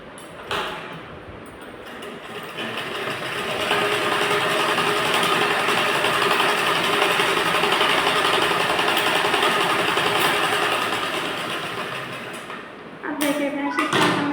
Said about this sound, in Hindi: अब यहाँ से हम एक सिलाई लगाएंगे।